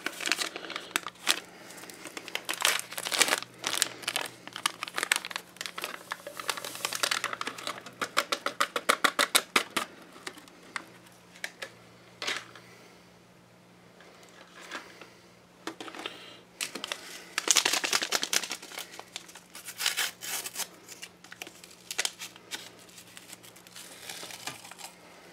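Plastic and foil MRE packets from a 2012 US Menu 4 ration crinkle and tear in bursts of close, busy rustling while beverage powder and granola are made up, with a steady low hum beneath and a brief quieter lull midway.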